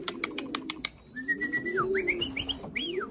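A pet pigeon or dove calls up close, starting with a quick run of sharp chirps, then a series of whistled notes that rise and fall, over a low background hum.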